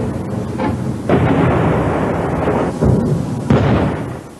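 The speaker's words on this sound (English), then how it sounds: "the rockets streak down, for a moment illuminating Sarajevo's ancient center, before reducing it to further rubble" Rocket explosions during the 1992 bombardment of Sarajevo boom and rumble continuously, with heavy blasts swelling in at least two distinct waves over a dense, roaring low background.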